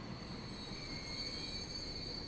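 A passing train in Transport Fever 2 with steady wheel squeal and rail rumble, sustained high-pitched tones over a low rolling bed throughout, no talk.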